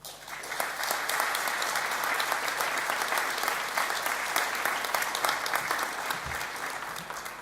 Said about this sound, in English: to applaud your family and friends